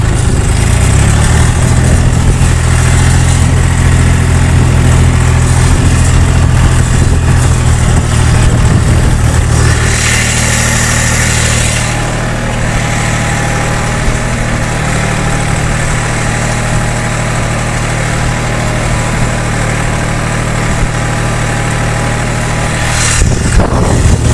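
A Yuto 244SX tractor's engine drones steadily and loudly as it pulls a heavy 1.5 m disc harrow across rough, boggy ground, with a constant low rumble and one brief change in tone partway through.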